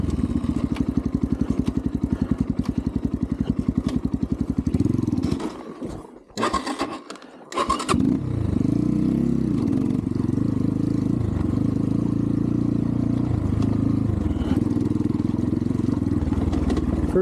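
A 250 TemplarX dirt bike engine runs in first gear off-road, a loud, close, throbbing putter that cuts out briefly midway with some clattering, then settles back into a steady low drone.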